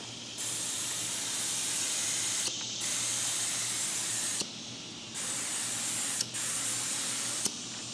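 An HVLP spray gun spraying lacquer hisses loudly and steadily in long bursts, stopping briefly between passes before the close, even spray resumes.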